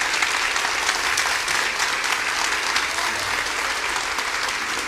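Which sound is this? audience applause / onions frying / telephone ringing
audience applause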